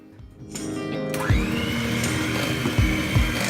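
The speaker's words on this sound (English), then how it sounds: "Now we've got to put the eggs into the mixture. Now off to the mixer." An electric mixer whirs steadily while beating cookie dough with eggs for triple chocolate cookies, starting after a brief clatter and running loud and close with a few heavier bumps as the beaters strike the bowl.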